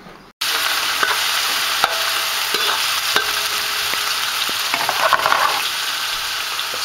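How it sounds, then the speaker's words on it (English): Oil, red pepper and shallot seasoning sizzle loudly in a hot pan for fried rice, a constant crackling hiss dotted with sharp ticks and occasional scraping stirs. "That's all the seasoning and the oil frying here."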